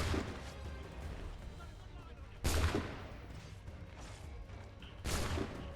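Musket fire in Assassin's Creed 3 comes as loud, sharp blasts roughly every two and a half seconds, each fading into a rough rumble, with faint voice activity between the shots.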